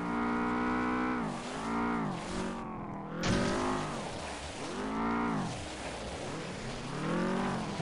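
Race car engines in the racing game FlatOut on an ice track, loud whining engines rising and falling in pitch through repeated revs and shifts, continuous and close.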